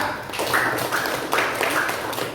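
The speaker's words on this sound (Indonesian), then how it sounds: "tepuk tangan buat kelompok 3" Applause for group 3 in a classroom, a brief dense burst of clapping from many hands, close and fairly loud, lasting a couple of seconds.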